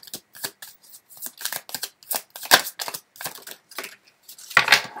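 Tarot cards being shuffled and drawn: a close, rapid run of papery flicks and slaps in uneven bursts, with a louder flurry near the end and no talking.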